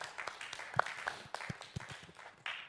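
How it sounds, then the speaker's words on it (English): An audience at a Bible quiz contest in Wolverhampton claps for a contestant, with scattered, fairly faint applause and a few sharper individual claps. "Can we clap for her, please?"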